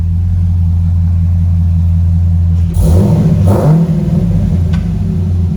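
A 2006 Chevrolet Corvette engine idles with a steady low rumble, then revs up briefly and settles back into idle, loud and close.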